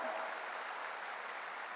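Church congregation applauding during a revival meeting held for the nation's future, a dense, steady wash of clapping that stays even from start to finish with no voices over it.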